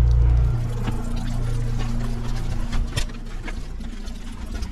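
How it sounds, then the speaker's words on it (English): Water rushes through plumbing into a hot water heater tank in a cabin, a strong low pour that settles into a steady, even flow with a few small clicks, with no talk. "this should start filling the tank"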